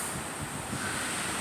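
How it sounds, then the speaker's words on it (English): Strong, aggressive wind roaring steadily during a Colorado snow storm, a continuous rushing blast buffeting the microphone with no voices. "It's just wind just blowing up and up, and it's super aggressive."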